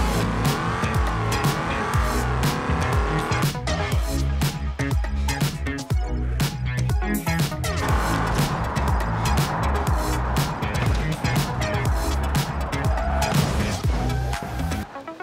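A car with a 5.7-liter turbocharged engine accelerating hard, a loud continuous engine roar rising through gear changes with tire squeal, close and dominant for the whole stretch.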